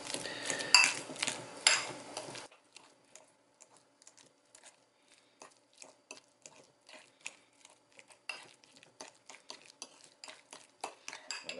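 A fork mashes ripe avocados in a bowl for spicy guacamole, giving soft repeated squishes and light clicks of metal against the dish, close and quiet, after a brief louder clatter at the start.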